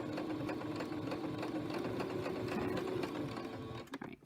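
A sewing machine runs a single continuous stitch along a marked dart line, a close, even mechanical whir that winds down and stops near the end.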